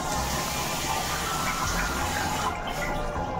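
Water poured into a clay pot of chicken curry on a country-style cooking setup, a steady loud gushing pour that tapers off near the end, with no talk.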